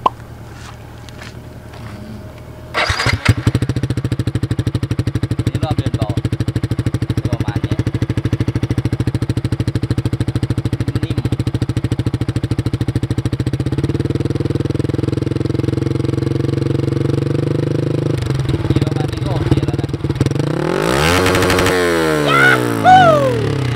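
Yamaha R6 motorcycle with a silencer insert in its exhaust, starting up after a few seconds and idling with a steady throbbing drone, the pitch stepping up midway, then sharp rising revs near the end, loud and close.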